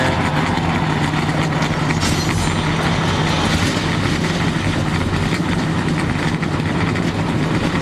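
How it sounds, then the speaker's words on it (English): NASCAR Craftsman Truck Series truck engines fire up and idle together on a newly resurfaced track, making a loud, steady, dense mechanical drone that continues without a break and with no talking. "The engines are fired."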